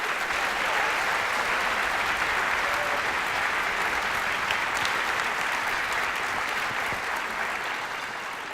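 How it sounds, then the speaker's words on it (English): Sustained audience applause at a high school band concert, a dense, even wash of clapping from a large crowd that holds steady for several seconds before easing slightly at the end. "let's give them all one more round of applause"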